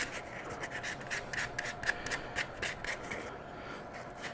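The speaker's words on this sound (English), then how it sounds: "I give everything a real light sanding" Light hand sanding on a prototype Batman statue piece, a soft repeated rubbing rasp in short strokes at close range, fairly quiet and steady with no voices.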